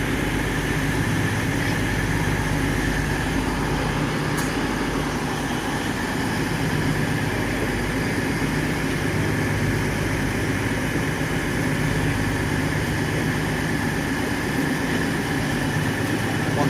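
An older Eurostar train idles at a platform at St Pancras International with a steady low engine drone and hiss, continuous and loud throughout.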